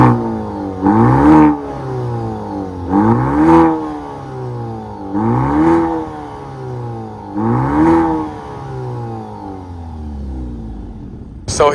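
A 2024 Maserati Grecale GT hybrid with turbo accelerating hard in four repeated runs, each engine note climbing through the gears with rising sweeps, then dropping back before the next pull.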